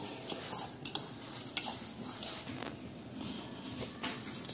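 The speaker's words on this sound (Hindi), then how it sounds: "अब हम इसे अच्छी तरह ना मिक्स कर लेंगे दूध को" Milk being stirred and mixed into gulab jamun dough in a bowl, soft wet scraping and stirring strokes with a few sharp clinks of a utensil, close and quiet, with no talk.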